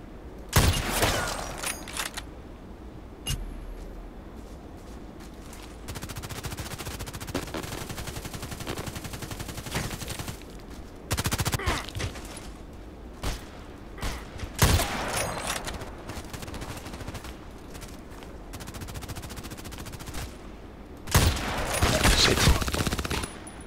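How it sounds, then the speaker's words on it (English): Automatic weapon fire in the online shooter Contract Wars on the Site map crackles in repeated bursts, some loud and close, others thinner and more distant, separated by stretches of quieter background rumble. "Automatic weapon."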